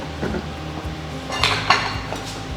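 A spatula mixes cooked Peruvian-style green pasta in a pot, making close, irregular metallic scrapes and clinks against the pot, with a few louder knocks in the middle and no talking.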